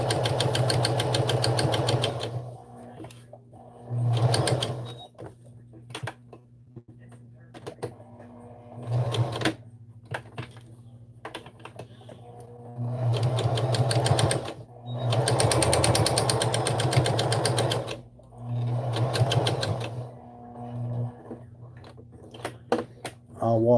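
A sewing machine stitches soft fabric, guided slowly around corners and tight turns, running in repeated bursts of rapid needle chatter separated by brief pauses, with a voice talking at times.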